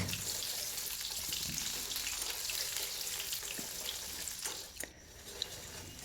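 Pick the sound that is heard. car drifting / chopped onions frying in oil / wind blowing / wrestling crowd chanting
chopped onions frying in oil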